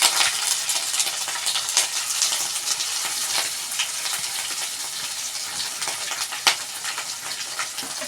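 Fish pieces frying in oil, giving a steady, loud, dense sizzle and crackle that carries on without a break, close up and with no talk over it.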